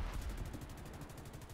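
Machine guns firing from an AU-1 Corsair fighter plane in the War Thunder video game, a rapid rattling burst of evenly spaced shots lasting a second or so over a low engine drone.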